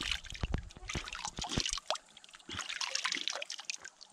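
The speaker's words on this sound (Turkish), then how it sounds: "Dere artık bu insanı rahatlatan su sesi var ya" A spring-fed stream flows nearby with soft, irregular trickles and drips that come and go, fairly quiet with no voices.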